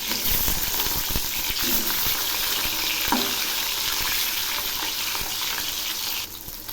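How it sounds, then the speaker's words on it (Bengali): Catla fish pieces, turned to their second side, fry in mustard oil in a kadai with a steady, dense hiss and crackle that holds evenly throughout, loud and close. "1 পাশ ভাজা হয়েছে,"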